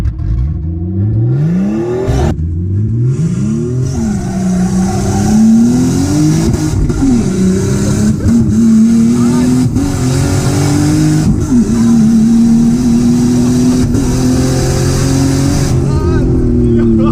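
A turbocharged Nissan Skyline R33 GTST engine pulls hard under boost, its loud rising drone climbing through gears with brief dips at shifts, heard close from inside the car with occasional voices.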